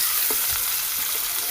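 Chopped onions sizzle and crackle in hot oil in a pan while cooking for a tomato curry, a steady close frying hiss with a few soft stirring bumps and no talk.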